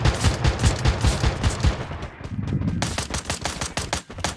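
In the mobile shooter Free Fire, rapid automatic gunfire rattles in quick, evenly spaced bursts, close and loud, with a short pause before the firing resumes.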